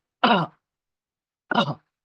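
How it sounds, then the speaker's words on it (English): Two short, deliberate coughs from a person showing a controlled cough technique used in pulmonary rehabilitation, each a brief throaty burst about a second apart with silence around them. "you are supposed to cough like this"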